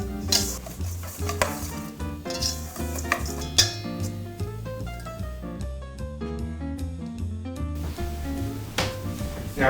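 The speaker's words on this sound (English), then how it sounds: "Mix it up with the whisk." A whisk clatters steadily around a bowl, mixing flour, salt and other dry ingredients for breakfast cookie scones, with light metallic scraping under music in the background.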